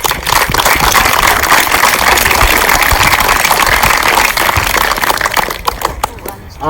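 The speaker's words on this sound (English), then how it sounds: "So first round of applause is always for the scorers." A crowd at a junior softball prize-giving applauds steadily and loudly for several seconds, dense clapping filling the space before tapering off near the end.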